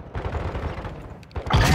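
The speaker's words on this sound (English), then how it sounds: "You are taking effective fire." Gunfire rattles in the shooter Call of Duty DMZ, a rapid run of muffled shots followed by a sharper, louder burst at the end, fairly close.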